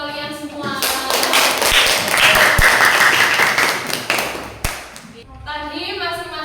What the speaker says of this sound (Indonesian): kita beri aplaus untuk kalian semua